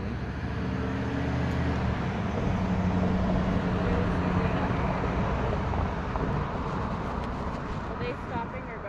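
Street traffic rumbles steadily past a pedestrian crossing, a continuous broad roar of nearby vehicles, with people talking over it throughout.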